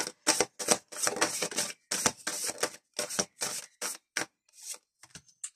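Oracle cards are shuffled and drawn for a reading, giving a quick series of crisp, papery riffles and slaps in short bursts close by, tapering off into a few lighter flicks.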